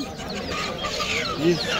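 Geese and ducks at the Fatullah poultry market give short, clucking honks close by, mixed with crowd talk in the background.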